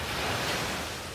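Ocean waves washing onto a beach in Barcelona, Spain, at early morning, a dense continuous roar of surf blended with wind buffeting, loud and unbroken throughout.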